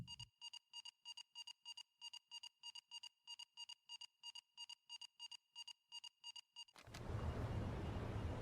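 A submarine alarm in the World War II game UBOAT blares in a rapid, evenly spaced series of about twenty sharp electronic beeps, loud and alone, then gives way to a broad rushing noise.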